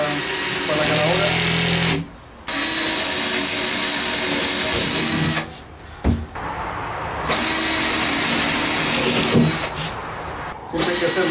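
A power drill bores holes into a keyboard hardcase during its construction, whirring loudly in several sustained bursts separated by short pauses, with a steady tool hum up close.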